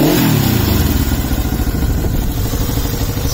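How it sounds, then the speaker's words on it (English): A 1975 Honda CL360 motorcycle engine runs loud and close, opening with a brief rev that settles into a steady, rapid clattering idle with a low pulsing exhaust note. "Let her warm up slightly before I start revving her."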